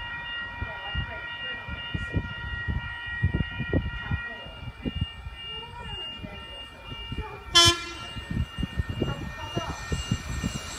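A Sydney Trains Oscar H-set passing platform 1 at Woonona station, with a rumbling run of wheel and track knocks and one sharp horn blast partway through, under some talking.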